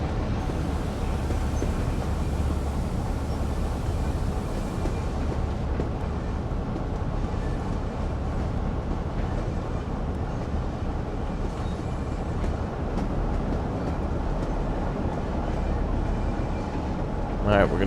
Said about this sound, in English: we're gonna keep the train going now